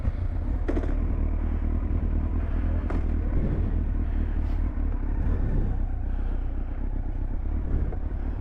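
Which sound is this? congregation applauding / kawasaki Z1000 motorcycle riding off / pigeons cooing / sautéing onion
kawasaki Z1000 motorcycle riding off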